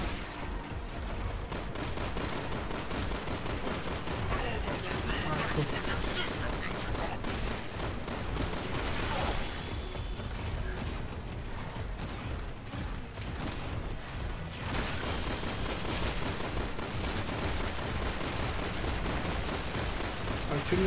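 An enemy fires projectiles in the Resident Evil 6 co-op video game, a continuous barrage of rapid bursts and impacts with mechanical clatter, fairly quiet and dense throughout, no clear talk over it.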